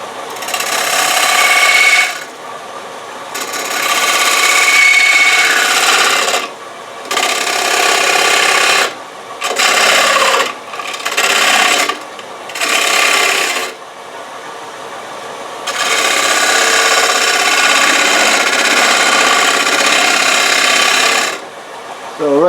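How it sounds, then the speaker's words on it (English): A spindle gouge cuts wood on a lathe while turning a platter, giving loud close bursts of harsh tearing and hissing that stop and start in a broken rhythm, ending in one long continuous cut. "So we can start that with the spindle gouge here."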